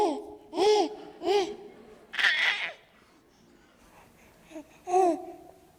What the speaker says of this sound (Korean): 애기 소리. 아기 옹알이 소리입니다